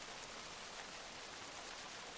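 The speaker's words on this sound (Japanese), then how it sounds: "いつにも増して強い雨の中" Heavy rain pours steadily in a horror video game, a dense, even hiss with no voices over it.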